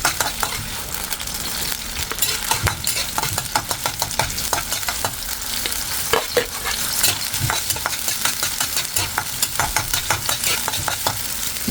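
Garlic and onion sauté in a pan for squid adobo, a continuous close sizzle and crackle with frequent scraping stirs at an irregular rhythm.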